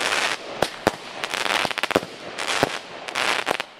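Rapid crackling bursts of store-bought consumer fireworks, loud and close, with sharp individual bangs scattered through dense popping.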